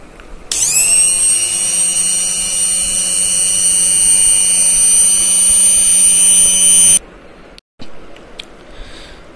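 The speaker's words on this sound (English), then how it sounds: "now we are going to try the speed 2 and I'm sure you can hear the difference between the sound of the motor" A Boss B-121 160-watt portable blender motor on speed 2 spins up into a loud, steady high-pitched whine that holds for about six seconds, then cuts off into a short clatter.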